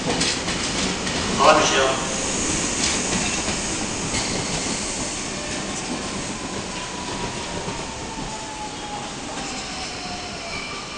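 A passenger train pulls out of Central station at afternoon peak with a continuous rolling rumble, wheels squealing faintly and rising, and a sharp clatter early on. A person briefly says a greeting.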